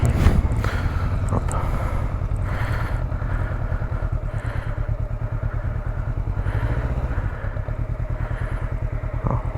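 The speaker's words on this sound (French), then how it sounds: "On apprend à connaître la moto." Motorcycle engine running steadily nearby for several seconds, a continuous loud rumble with wind buffeting and some clattering, no voices.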